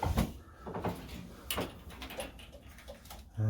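A pigeon loft door is shut with a few sharp knocks and clacks, the loudest near the middle. Faint rustling and bird sounds from the loft fill the gaps.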